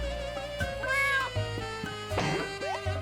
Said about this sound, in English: Gotta take a picture of the kitty cat.